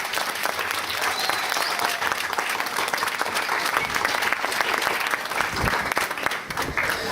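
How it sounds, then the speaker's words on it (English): An audience at a boys' school graduation ceremony applauds the fathers present, dense sustained clapping from a large crowd that fills the whole stretch. "please give the fathers in the audience a round of applause"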